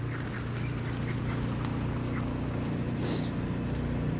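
Several drake green-winged teal ducks in an outdoor pen give short, scattered calls over a constant low hum of background noise, the calls faint to moderate and fairly close.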